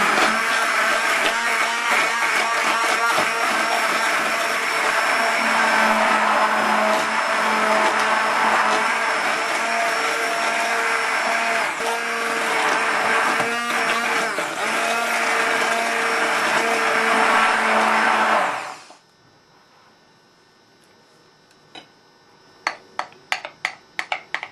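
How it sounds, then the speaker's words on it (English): A kitchen blender whirs loudly and steadily for about eighteen seconds, pureeing spiced pumpkin and coriander soup until smooth, then the motor cuts out, followed by a few light clicks and taps. "I'm simply going to blend it until it's smooth"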